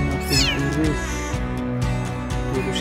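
Kittens from a cat's litter about 24 days old meow in close, repeated high cries, with a voice talking over them.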